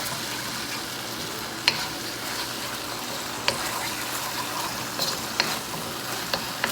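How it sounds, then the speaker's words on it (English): Pan juices being scraped into a thickening cornstarch sauce for stir-fry noodles, a steady low sizzle with occasional sharp utensil taps and scrapes against the pan, no talking. "you want to scrape all that flavor from the pan into that cornstarch"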